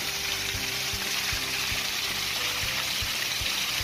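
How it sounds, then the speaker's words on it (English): Steady rushing water, a constant broadband roar like a waterfall nearby, with no voices; a waterfall at a beach in England. "Cool waterfall."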